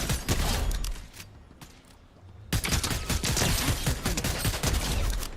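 Rapid bursts of video game gunfire rattle loud and close, a dense volley, a brief lull, then sustained automatic fire.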